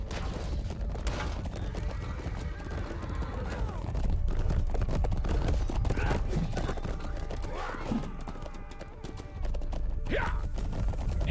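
Horse neighs and hoofbeats in the medieval combat game Chivalry 2, with a whinny near the end over a busy, loud battle din and clanking mechanisms.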